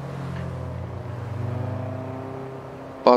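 Acura RSX Type-S engine revving in the Forza Horizon 3 racing game, a steady mid-pitched engine drone that rises gradually, ending in a short louder burst at the very end.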